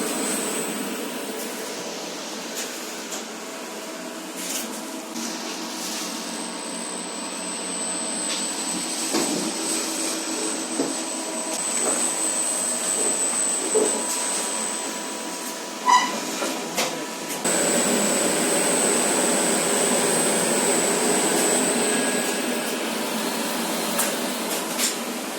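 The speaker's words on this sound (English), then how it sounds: "these are bottom drive lifts, because look, the motor's down there, goes through to a wheel" A bottom-drive lift motor and cable wheel in Switzerland run with a steady mechanical hum and whine, joined partway through by a high pitched tone and a brief clunk, continuous and fairly close.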